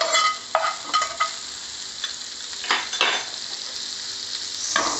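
Butter sizzles softly in a pan under a bread omelette, broken by several close scraping and tapping strokes of a spatula.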